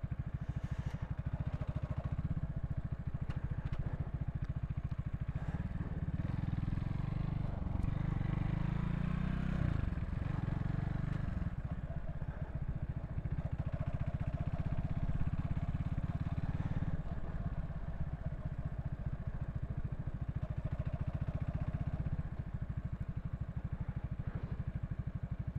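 A motorcycle crawling at walking pace along a highway, its engine a steady low drone that persists throughout, with a louder, rougher stretch partway in and faint clattering over continuous wind and road noise.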